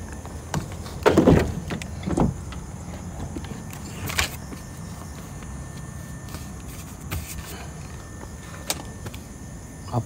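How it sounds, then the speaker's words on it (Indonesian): A car being locked, with a power window motor whirring, a door thudding shut, and a few brief clicks and knocks spaced over a quiet background. "Aku kunci kereta sekejap."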